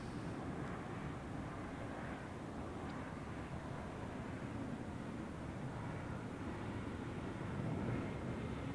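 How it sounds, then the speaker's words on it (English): Airbus A320 airliner from Thessaloniki at Zurich Airport, a steady broad jet-engine roar rumbling continuously at moderate distance with some wind noise over the microphone. "Here we have the A320 from Thessaloniki."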